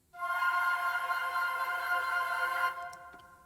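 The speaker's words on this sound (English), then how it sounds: "And the woodwind trills." Woodwinds trill on sustained notes in a Christmas orchestral arrangement, a bright wavering tone held for nearly three seconds before cutting off, heard alone without voices.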